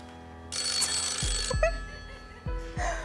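An electronic telephone bell rings on a Deal or No Deal game-show set, two bursts of bright ringing over a low studio hum with soft thumps.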